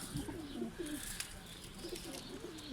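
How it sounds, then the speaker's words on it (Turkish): Faint, soft cooing bird calls repeat a few times against a quiet outdoor background, dove-like and gentle. "Bak ötüyor. Ötmeye bile başlamış."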